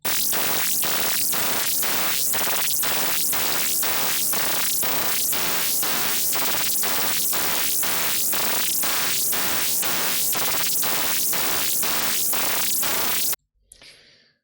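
Loud, dense hissing static from an undemodulated FM radio signal pulses rapidly and steadily for many seconds, then stops abruptly, leaving faint residual noise.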